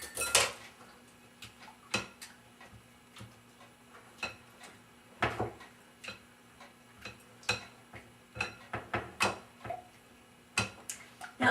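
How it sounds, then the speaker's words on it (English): Soft cheese scraped and pressed against the side of a mixing bowl by a utensil, giving a run of light clicks and taps at an uneven, steady pace, close and fairly quiet. "I'm mushing the cheese against the side of the bowl."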